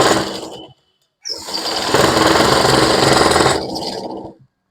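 A sewing machine stitches cord piping onto fabric in two close, loud runs of rapid mechanical chatter separated by a short pause.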